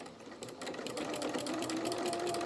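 A domestic sewing machine stitching a seam in a small fabric doll's dungarees, a quiet, rapid mechanical whirr that speeds up as it runs, with no talking.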